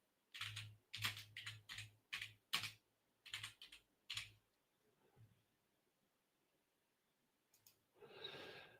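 Fingers tapping a computer keyboard in short uneven bursts of crisp clicks, close and fairly quiet, pausing midway, followed by a soft rustle or breath at the end.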